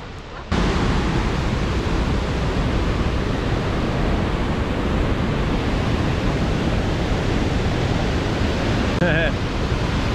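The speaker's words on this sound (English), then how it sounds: "I think you can already hear the water" Rushing water in a canyon in Switzerland roars as a loud, steady broadband wash that fills the whole stretch, with a brief voice near the end.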